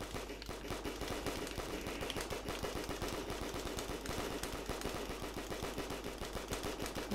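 Pistol fire in Black Ops 3 Zombies on a custom pyramid map, as rapid, evenly spaced shots rattling continuously over dense game music.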